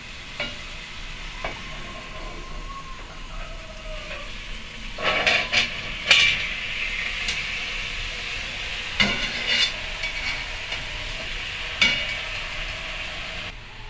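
Chicken frying in a cast iron pan over a kerosene stove gives a steady close sizzle, with a few sharper clinks and scrapes as the pieces are turned partway through. No one speaks.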